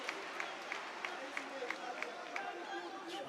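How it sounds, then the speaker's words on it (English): Crowd of fans cheering at an MMA title fight in Brazil, a steady roar of voices and applause with short, regular sharp accents, sitting under a commentator's talk. "Brazilian faithful cheering for Beatriz Consuli."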